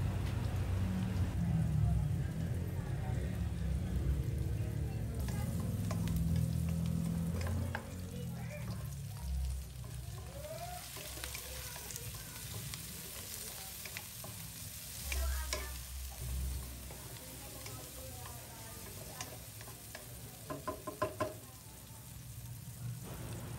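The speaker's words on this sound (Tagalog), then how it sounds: "Once nasaute na yung garlic, onion" Garlic and onion sauté in a pan for Filipino pinakbet, a soft, steady sizzle with occasional stirring scrapes and taps, partly under a low rumble and background sound in the first part.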